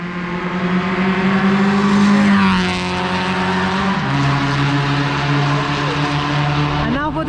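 A loud engine drones steadily, then its pitch drops as a Suzuki Ignis hatchback roars past at close range on a race track, with voices faintly underneath.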